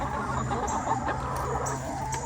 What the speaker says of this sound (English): sorry about the noise. As you can see, I am out here with the chickens.